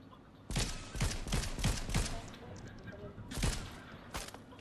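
Gunfire aimed at the player in a shotgun-focused video game, a rapid string of sharp loud shots followed by a pause and a few more scattered shots.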